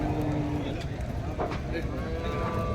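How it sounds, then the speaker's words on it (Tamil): Heifers and dairy cows at a busy cattle market in Seenapuram give a low, faint moo against a steady crowd murmur and background bustle. "இப்போ பாருங்கள் எவ்வளோ கிடேரிகள் இறக்குறாங்கன்னு பாருங்கள்"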